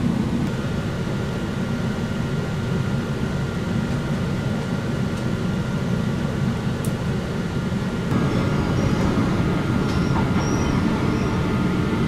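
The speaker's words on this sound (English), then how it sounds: "this train's going to be leaving Boggo Road Park Road in a couple of minutes" Steady rumble and clatter inside a Queensland Rail EMU electric passenger train departing Boggo Road, continuous and fairly loud, with the noise shifting slightly partway through; no one speaks.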